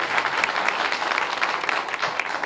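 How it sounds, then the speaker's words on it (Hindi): Sustained applause from an audience at a government event with the chief minister in Aligarh, dense steady clapping filling the whole stretch without speech. "जोरदार तालियां"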